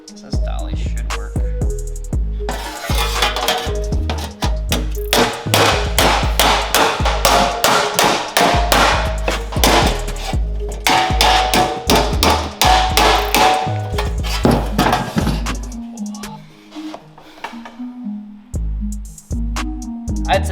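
Sheet metal is hammered over a dolly while shaping rocker panels for a Porsche 911 Slantnose: rapid, loud, close metallic blows in long runs, thinning out toward the end.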